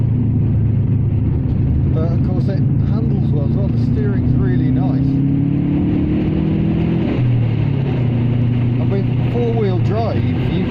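Subaru Impreza engine pulling hard from inside the car, a steady loud drone rising in pitch through a gear, dropping at a shift, then climbing again, with people talking over it.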